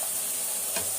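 Chicken frying with tomato and onion in a pan for chicken kuzhambu, a steady loud sizzle with a brief stirring scrape near the end, no talking.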